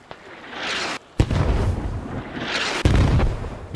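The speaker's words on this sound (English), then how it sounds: "Rocket's coming in." Mortar and rocket impacts in the military shooter Squad, two heavy booms landing with sharp onsets and long rumbling, hissing tails, preceded by a fainter distant thud.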